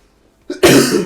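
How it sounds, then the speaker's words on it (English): A single harsh cough, short and close, preceded by a brief intake of breath. "Got a really bad cough at the moment."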